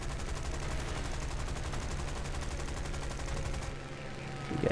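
Rapid aircraft machine gun fire from a fighter in the combat flight game War Thunder, a dense continuous rattling burst over a steady engine drone that cuts off abruptly near the end.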